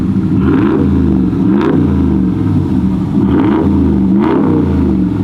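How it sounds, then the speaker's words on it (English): A Dodge Ram 1500 Rebel with the 5.7 Hemi V8 and a Borla Atak exhaust, up on a lift, revs loudly and close in two deep, rumbling surges over a steady idle. "So this is the difference between a Borla Atak system"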